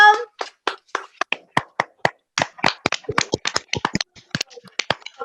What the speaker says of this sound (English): Okay, all of you, please clap for Subham